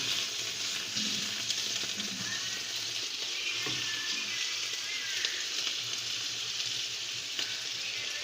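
Potatoes fry in oil with a dense, continuous sizzle like light rain, close and steady, with a few faint clinks and no talking throughout.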